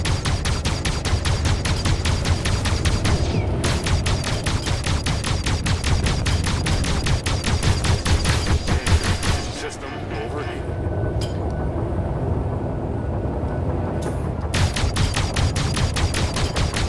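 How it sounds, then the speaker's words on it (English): Rapid repeating spaceship gunfire from a Sabre fighter in a Star Citizen pirate swarm battle, steady bursts of pulsing shots, close and loud, broken by brief pauses with engine rumble beneath. "I'm shooting at him as well."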